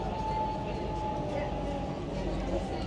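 Driverless light rail train in Malmö, Sweden, rolling with a steady low rumble and a faint sustained tone, heard from on board or close by, with background noise throughout.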